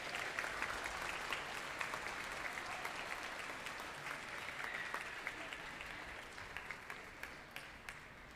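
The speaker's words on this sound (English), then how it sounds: "Please give her another round of applause." Applause from a school audience at a middle school Veterans Day ceremony, a steady wash of clapping that holds for several seconds and slowly thins out toward the end.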